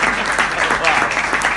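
An audience at a Hindi kavi sammelan poetry gathering claps in a dense, steady burst of applause, close and fairly loud throughout.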